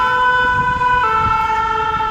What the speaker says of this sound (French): C'est les pompiers.